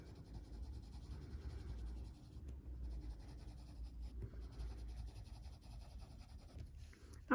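A Polychromos colored pencil scratches and rubs across paper in a continuous soft scribbling, quiet and close, with brief pauses in the strokes.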